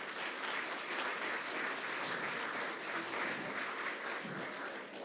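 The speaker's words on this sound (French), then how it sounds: "que nous pouvons applaudir très fort" Faint, steady applause from the audience at an eloquence tournament evening greets jury president Pierre Wojtek, an even wash of clapping with no voices.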